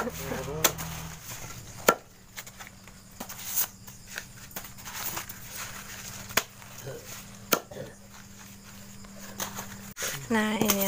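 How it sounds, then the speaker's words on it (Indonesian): A knife trims the ends of corn cobs at night, giving scattered sharp chopping taps with irregular pauses over a faint background hum and insect chirps. "Kita bersihkan ujung-ujungnya, ujung-ujung isap yang ini dan yang ini"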